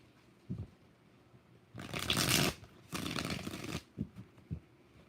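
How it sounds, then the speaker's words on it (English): A deck of tarot cards is shuffled during a live reading in two distinct riffling bursts, each about a second long, with soft taps and handling sounds before and after. The cards are close and clear in a quiet room. "2 more shuffles"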